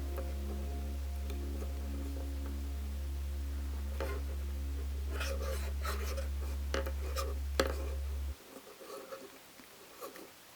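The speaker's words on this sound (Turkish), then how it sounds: "bu kalemden dolayı oluşan sesten özür dilerim" A crochet hook scrapes and ticks against a pencil-shaped piece while crocheting lace on a table, soft intermittent scratches under a steady low hum that cuts off near the end.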